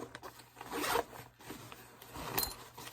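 A zipper on a Rothco backpack, not a YKK type, is pulled in short rasping strokes close up, quiet with brief pauses between pulls.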